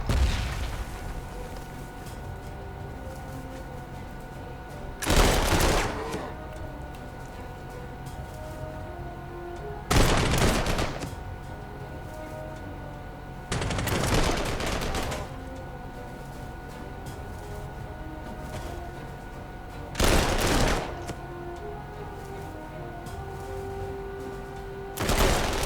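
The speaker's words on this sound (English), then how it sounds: "All kinds of artillery barrage." Recurring artillery barrage in the strategy war game Panzer Corps 2: heavy booming blasts land about every five seconds, five bursts over a steady low game background, with no talking.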